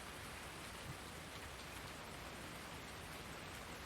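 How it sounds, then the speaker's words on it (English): Steady, even rainfall in the farming video game Farming Simulator 19, a soft, continuous hiss of drops with no voices and no breaks. "I'm preferring the sound of the rain"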